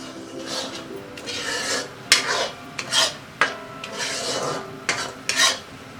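Jaggery syrup being stirred and reduced in a pot for a traditional sweet, with a utensil rasping and scraping against the pot in repeated strokes, close and fairly loud with short pauses between them.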